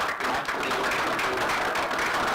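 An audience claps continuously at a sustainable synergies conference session, a dense, steady patter of many hands with no clear beat and no talk over it.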